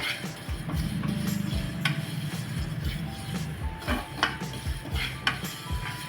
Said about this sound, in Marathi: पॅनमध्ये आपल्याला हे जे तीळ घेतले ते सुद्धा भाजून घ्यायचे